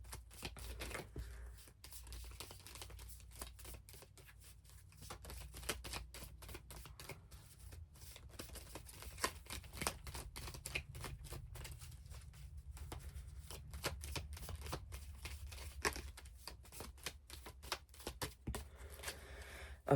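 Tarot cards are handled and drawn, giving a long run of quiet, rapid clicks and flicks close by, some in dense bursts.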